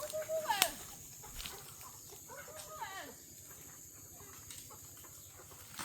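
Chickens cluck softly while they eat. The calls are scattered, faint and fairly distant, with a sharp chirp near the start over a low rural background hum.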